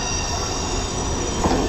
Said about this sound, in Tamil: ட்ரெயின் வந்து ஓரளவு ஸ்லோவில் தாங்க ஓடிட்டுருக்கு